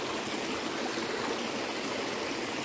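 Steady, broadband rush of flowing stream water along the Sheung Lin stream, close and continuous with no letup or voices.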